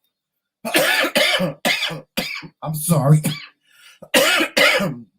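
A person coughs repeatedly from allergies, several sharp close coughs and throat clearing in quick bursts between short apologetic speech.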